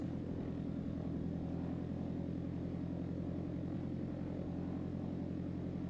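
Piper Arrow III light propeller aircraft taxiing near the runway at Letňany, Prague, with a steady droning engine and propeller hum heard from inside the cabin, constant and unbroken throughout.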